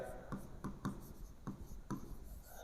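Chalk or a marker writing on a classroom board, a series of quiet sharp taps and strokes at irregular intervals in a fairly quiet room.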